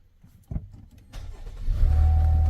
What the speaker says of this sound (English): We're going to start the vehicle so we have power